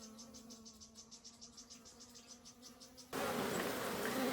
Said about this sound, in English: African bees are busy collecting nectar from all types of flowers.